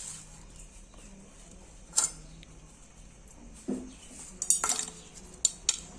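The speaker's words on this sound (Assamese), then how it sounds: "এতিয়া মই গুড়খিনি কাটি ল'ম।" Jaggery being cut with a knife into fine pieces, heard as a few sparse, close metallic taps and clinks of the blade on a plate against a quiet background, bunching together toward the end.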